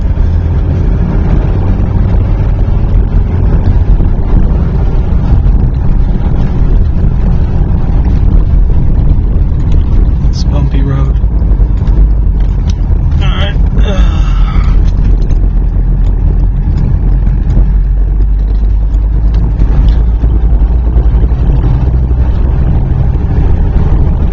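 1981 Mercedes 300CD turbo diesel coupe with four-speed manual cruising on a highway, a loud continuous engine and road rumble with heavy wind buffeting throughout.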